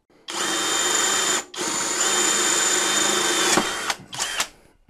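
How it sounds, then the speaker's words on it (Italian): A compact Deko 20V cordless drill with a 10 mm bit bores into hollow brick, whining loudly and steadily close by, with a brief pause, a second long run, then a few short bursts as it breaks through. "E anche qui punta da 10, facciamo prima la prova sul forato"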